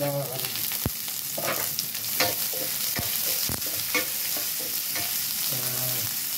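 Lots of onions fry in a pan under a steady sizzle, broken by repeated stirring scrapes and a few sharp utensil knocks against the pan; no one speaks.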